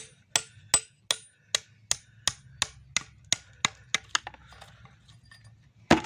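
Sharp metallic strikes of a metal rod on thick scrap metal, about fifteen of them in a steady rhythm, close and loud, ringing briefly after each blow over a low background hum.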